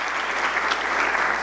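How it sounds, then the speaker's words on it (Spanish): Audience applause at a judicial arbitration panel conference, a dense, even wash of many hands clapping steadily throughout, close and loud. "Yo les pediría un aplauso para los miembros del Consejo Directivo."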